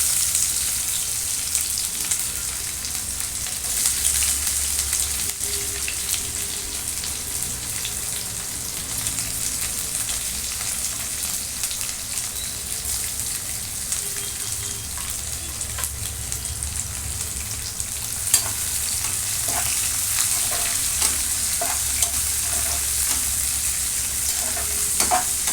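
Chopped onion frying in a pan for veg dum biryani cooked in ghee, a steady close sizzle with scraping stirring strokes throughout, no talking.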